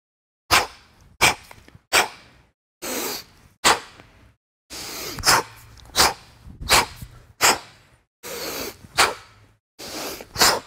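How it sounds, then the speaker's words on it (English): Forceful rhythmic breaths accompany a kettlebell clean and press, about a dozen sharp exhale bursts spaced roughly a second apart, close and loud with short silences between them. "It also includes a rhythmic element where your breathing pattern wants to follow the execution of the exercise."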